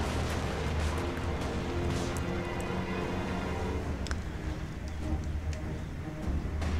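Artillery and gunfire from a Total War Warhammer battle, a dense, continuous din of booms and scattered sharp shots in a fantasy war video game, heard without talk.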